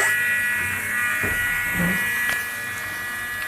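Steady electrical buzz of a bipolar inverter power source running a micro-arc oxidation process at about 300 mA, a continuous tonal hum with a few faint clicks and crackles, no talk.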